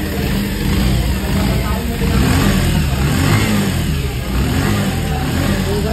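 A Bajaj Pulsar 125 motorcycle with a starting problem runs loud and close, its engine droning steadily with slight swells of revving throughout.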